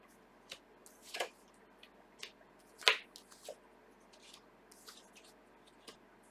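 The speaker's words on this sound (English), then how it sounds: "I'm going to pull a few more cards here." Tarot cards being pulled and handled from a deck, with quiet, sparse snaps, flicks and soft shuffling taps in a still room, one louder crisp snap partway through.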